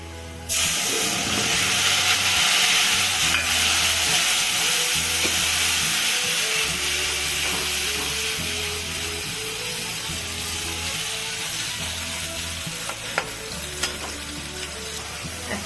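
Steady loud sizzling of a ground spice paste added to fried onions in a hot pan, with occasional stirring scrapes, continuous throughout.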